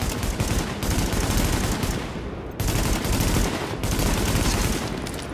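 Rapid bursts of gunfire from a boss in the video game The Division rattle loudly in quick succession, with a brief pause midway before the shooting resumes, no talking.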